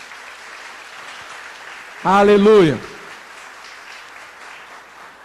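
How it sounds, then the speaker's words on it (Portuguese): A church congregation applauds during a Portuguese-language sermon. Continuous, moderate clapping fills the clip, and a voice calls out a short exclamation in the middle. "Você pode aplaudir o Senhor?"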